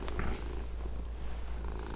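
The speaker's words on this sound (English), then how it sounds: "This orange purr machine is Samson" An orange cat purrs close up, a steady low rumbling purr that starts a little louder and then settles, heard alone.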